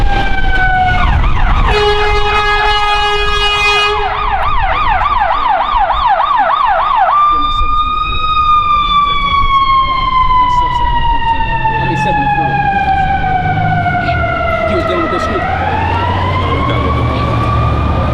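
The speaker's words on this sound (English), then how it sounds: "Every single second you hear an ambulance rolling down the street." A loud ambulance siren wails through fast yelping and then slow rising and falling tones, close by and dominating the street noise.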